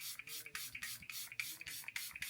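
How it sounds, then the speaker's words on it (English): A One Size powder melt setting spray hisses in a quick run of short bursts, about ten pumps in a steady rhythm, close and fairly soft with no talking. "I like to spray first and make sure that it's spraying."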